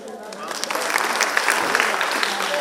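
A crowd at a prize distribution ceremony for the Shiv Pratishthan Group of Saswad gives steady, dense applause. The clapping stays loud throughout, with a murmur of voices mixed in.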